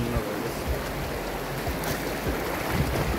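A river stream flows in a steady broadband rush, with nearby water splashing and a few low thumps throughout.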